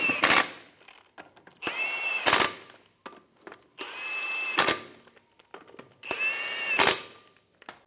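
A power tool snugs the lug nuts on a 2000-2007 Ford Focus wheel in four loud, close bursts of whirring and rattling impact, each lasting about a second, separated by short quiet gaps.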